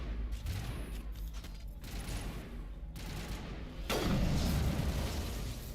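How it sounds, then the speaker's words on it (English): Gunfire from a sniper rifle in the Mass Effect video game, a steady barrage of shots and booms filling the clip, growing louder and denser near the end. "I'm gonna switch to my sniper."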